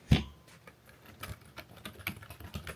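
Steady typing on an office computer keyboard with an attached wrist rest, a quick run of soft key clicks with one sharper tap at the start, close by and without speech.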